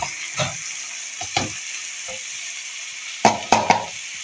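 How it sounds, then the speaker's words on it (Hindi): Chana dal being fried and stirred into spiced masala in a pan over low heat: a steady soft sizzle runs throughout, broken by a few scraping stir strokes, with a cluster of louder scrapes near the end. "मसाले में हम इसको भी साथ में फ्राई कर लेंगे"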